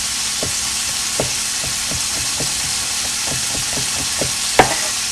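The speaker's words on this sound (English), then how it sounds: "We're going to move our pork around a little bit. We're going to try to get it brown." Thin-sliced pork and onion frying in a pan, a steady close sizzle broken by repeated scraping taps as the meat is stirred, with one sharper knock near the end and no talk.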